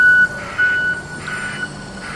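A JCB backhoe pulls away to load soil, its reversing alarm beeping in steady repeated tones over a rumbling engine, fairly close and loud.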